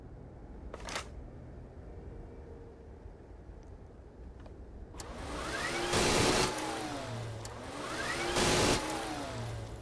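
A microgun in the game Starfield spins up twice, each time with a rising mechanical whir that swells loud and winds down, set over a steady game-ambience hum.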